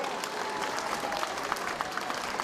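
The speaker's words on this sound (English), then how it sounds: "One more round of applause." An outdoor crowd at a harbor festival opening ceremony applauds the band, a dense, steady patter of many hands clapping at moderate distance, with no talk.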